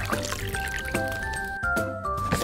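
Water poured into a pot for boiling spaghetti, a short close trickling and splashing stream with small clinks, no voices.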